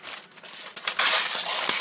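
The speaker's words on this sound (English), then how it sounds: "then I do parchment on a cookie sheet" Parchment paper is laid onto a cookie sheet with close, crisp crinkling and rustling that swells into a louder crackle partway through. The sounds come in short bursts, and no voices are heard.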